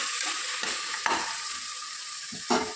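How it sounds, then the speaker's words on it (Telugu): Mint and leafy greens sizzle in hot tempering oil for egg biryani, with a steady close frying hiss broken by a few soft stirring scrapes. "అలాగే పుదీనా కూడా వేసుకోవాలి ఈ ఆకుకూరలు కూడా తాలింపులో బాగా మగ్గేటట్లు కలుపుకోవాలండి"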